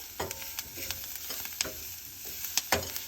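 A spoon stirs spices for a green pepper dish in a frying pan, scraping and tapping in irregular strokes over a soft, constant sizzle, close and fairly quiet.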